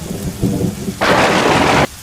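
Steady rain falls with a low rumble of thunder, then a loud burst of hissing downpour or a thunderclap near the end before it fades back to rain.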